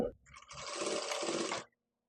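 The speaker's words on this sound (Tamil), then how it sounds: "மடிச்சுட்டு இது மேல வச்சு ஒரு 1/4 இன்ச்சு இருக்கிறது போல ஒரு தையல் போடணும்." A sewing machine stitches a quarter-inch seam along folded fabric for a blouse patti, giving one close, steady mechanical whir of just over a second before it stops, with no voices.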